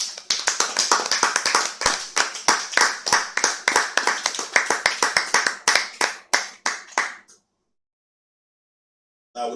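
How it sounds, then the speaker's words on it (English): A church congregation claps together in steady, rhythmic bursts of many hands for about seven seconds. The applause fades to silence before a short burst of sound returns at the end. "Clap for your own self."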